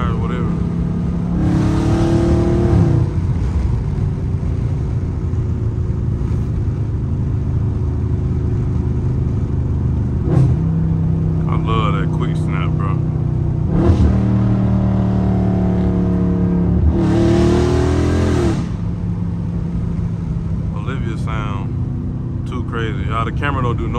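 A Dodge Charger Scat Pack's V8 rumbles and revs hard while drifting, with repeated rising roars and tire noise. Someone talks over the engine throughout.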